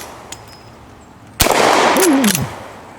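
A single sharp gunshot from a Litchfield repeater rifle in the video game Red Dead Redemption 2 cracks out loudly, followed by a ringing metallic echo that fades over the next second.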